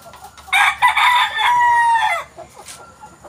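A Boston Roundhead rooster crows once, loud and close, in a single drawn-out call that ends with a falling tail. Some faint background noise follows.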